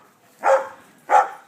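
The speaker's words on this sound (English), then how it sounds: "the dogs are barking in the background" Two separate dog barks ring out, moderately loud and spaced about half a second apart, against an otherwise quiet backyard.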